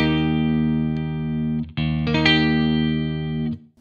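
Electric guitar played through a Lichtlaerm Prometheus amp with its bright switch engaged, a loud sustained distorted chord that cuts briefly, then returns with quick restruck chords ringing bright and full before stopping.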